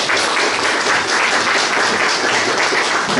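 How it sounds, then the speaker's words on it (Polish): An audience at an author's evening in the city library in Cieszyn applauds, a dense, steady burst of clapping that fills the room without a break. "jakbyście Państwo takie jakieś małe brawa"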